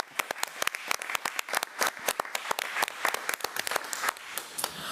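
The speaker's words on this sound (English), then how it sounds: "Let's give Jonathan another round of applause." A round of applause for a student at a school board meeting, a room of people clapping in quick irregular bursts that hold steady for several seconds.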